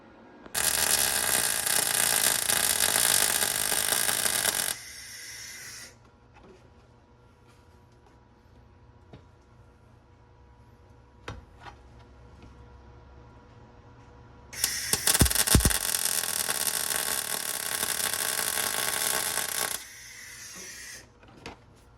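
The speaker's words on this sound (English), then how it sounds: "So we got our piece of metal in here, ready to weld in place." MIG-style welding of a metal piece onto the frame of a budget drift truck, two loud steady buzzing, crackling bursts of about four to five seconds each, separated by a quieter stretch of shop clatter and taps.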